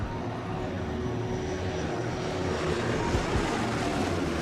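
Avro Lancaster bomber flying past, its piston engines giving a steady, moderately distant drone with a broad rumble that swells slightly toward the end, with no talking.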